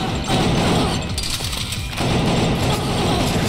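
Video game gunfire in Killer7, a dense, rapid volley of shots and thuds that pours out almost continuously at close range, dipping briefly in the middle before resuming.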